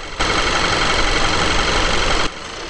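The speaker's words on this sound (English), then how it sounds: "Mechanically, VW is standing pat with a turbocharged 2-liter 4-cylinder engine." The turbocharged 2-liter four-cylinder engine of a VW Tiguan runs steadily, a loud, even broadband drone that holds for about two seconds, then drops away abruptly.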